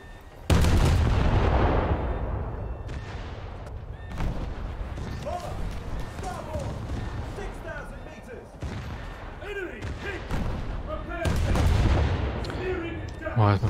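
Heavy naval guns aboard a warship in a naval combat game boom repeatedly: a loud opening blast with a long rumbling tail, then further shots and distant impacts, with someone talking over parts of the barrage.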